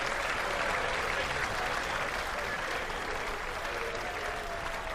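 Audience at a darts championship applauding in one continuous, dense wash of clapping that stays loud and steady throughout, with the crowd close and no other sounds standing out.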